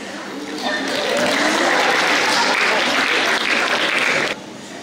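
A crowd bursts into sustained applause at a 2022 graduation ceremony, swelling quickly and holding steady for about four seconds before cutting off, with voices faintly mixed in.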